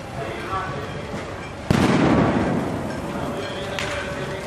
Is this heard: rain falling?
no